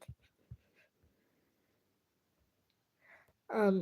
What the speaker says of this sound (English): Your dog wants to leave. He says, let me out.